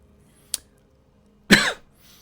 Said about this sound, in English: Sorry for coughing, I'm a little bit sick.